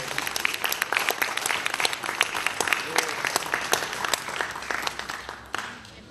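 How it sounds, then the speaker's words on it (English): Audience applause fills a high school auditorium at Abraham Clark High School, a dense, steady wash of many hands clapping close by for about six seconds before starting to thin near the end. "So I think that deserves a round of applause as well."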